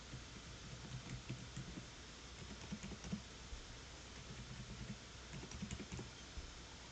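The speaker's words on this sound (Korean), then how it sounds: "지메일 클릭하셔서 이메일 주소와 비밀번호를 입력해 보도록 합니다." Soft, rapid key clicks from a computer keyboard as an email address and password are typed into a Gmail login, a quiet irregular patter of keystrokes over a steady background hiss.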